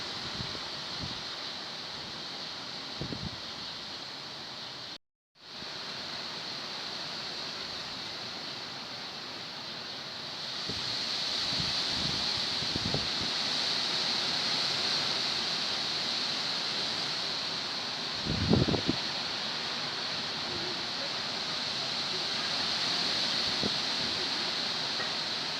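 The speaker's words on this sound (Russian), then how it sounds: "Вот такой ветер, ужас." Hurricane-force wind roaring through trees in Taganrog, a steady broadband rush with gusts building and easing over the whole stretch, with occasional buffeting thumps on the microphone.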